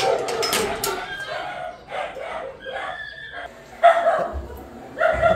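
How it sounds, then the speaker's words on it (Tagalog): A dog yips and barks repeatedly in uneven bursts nearby outdoors, with a person talking in between and over the barking. "Maingay ang aso guys."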